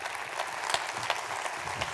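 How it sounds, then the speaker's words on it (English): Steady audience applause at a health technology conference as a speaker is welcomed, dense clapping from a large crowd filling the room evenly throughout, with no voices over it. "a big applause for Rebecca Love from the United States"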